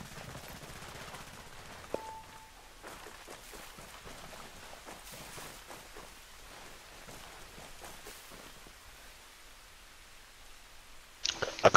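Enemy gunfire crackles in the tactical shooter Ghost Recon Breakpoint as rapid, faint bursts of distant automatic fire. The shots rattle quietly like patter beneath the game's ambience, with a louder jolt at the very end.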